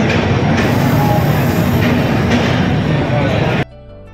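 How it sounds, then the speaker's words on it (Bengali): Loud rumbling roar of a train rolling in close by with rattling wheels, cutting off abruptly near the end into quiet music. "আমাদের ট্রেন চলে এসেছে।"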